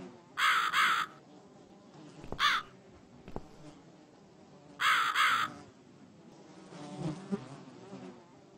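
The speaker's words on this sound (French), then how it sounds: "faut peut-être pourchasser le corbeau" Crows caw in The Cat Lady video game, two bursts of harsh calls a few seconds apart over a low, eerie ambient hum with faint clicks.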